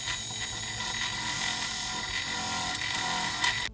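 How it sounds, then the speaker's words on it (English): A 1-inch drill bit bores through a wooden entry door for a deadbolt, giving a steady, loud, continuous drilling whir that holds level for several seconds with a brief surge near the end. "Now we're going to take this 1-inch drill bit and we're going to drill out for the deadbolt."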